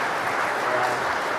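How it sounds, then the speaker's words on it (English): A brief burst of steady clapping from a conference audience applauding a presenter, dense and even for just over a second. "Another round of applause for this guy."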